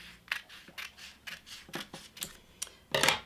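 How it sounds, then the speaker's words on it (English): Scissors snip through paper in a series of short, crisp cuts at an uneven rhythm, close and fairly quiet, ending with a louder final snip. "then with your scissors cut"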